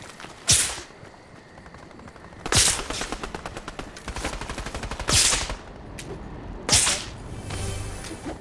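Dual SMGs fire in a Boba Fett video game, rapid bursts cracking out in four or five loud volleys with brief gaps, the longest a fast rattling stream of shots.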